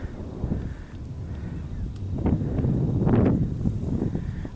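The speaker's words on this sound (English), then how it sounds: "Windy." Wind blows outdoors on a high viewpoint overlooking Ogden and the Great Salt Lake, a low buffeting rumble against the microphone that swells toward the middle.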